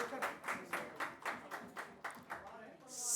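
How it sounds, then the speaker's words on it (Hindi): Audience at a Hindi poetry recitation event claps in a sparse, distinct rhythm, individual hand claps fairly close and moderate, with a brief voice near the end. "जोरदार तालियां हो जाए इनके लिए।"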